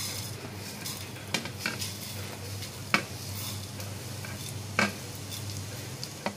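Urad dal and coriander seeds dry-roasting in a pan, with a soft steady hiss and occasional spoon scrapes and clinks against the metal, close by and with no voices.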